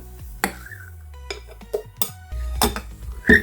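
Whipped egg whites are folded into plum cake batter in a bowl, with scattered spoon clinks and scrapes against the dish over a low hum, close and fairly loud.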